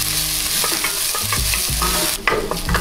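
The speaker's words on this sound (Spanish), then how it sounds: "vamos a verter la cebolla y sofreímos" Chopped onion sautéing in hot oil in a pot for lentil soup, a loud continuous sizzle with repeated scraping stirs and spoon knocks against the pot.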